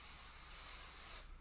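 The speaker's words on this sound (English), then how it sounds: "and then I'll just spray my bangs down" Hairspray is sprayed onto bangs in one steady, close aerosol hiss that lasts over a second, then cuts off.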